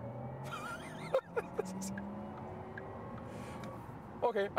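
A Porsche Taycan Cross Turismo Turbo S electric car accelerating in Sport Plus mode, heard from inside the cabin as a steady, faintly rising electric whine and road hum, with a few short clicks and bumps.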